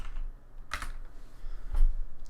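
A few quick keystrokes on a computer keyboard sound close by, in two short clusters of clicks against a low background hum.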